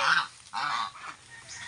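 A goose honks repeatedly at close range, harsh nasal calls in short bursts with brief pauses between.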